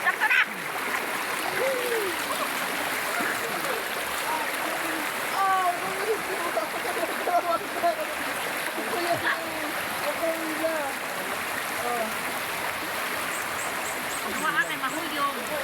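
Continuous splashing and rushing of cold water as people bathe, likely in a stream, with voices talking and calling out over the steady watery wash.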